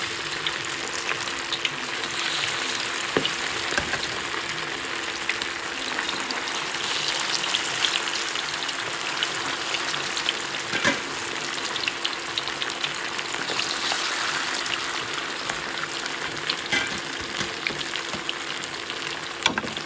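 Garlic frying in a pan gives a steady, close sizzle and crackle that runs the whole time, with small pops and light stirring ticks and no talking.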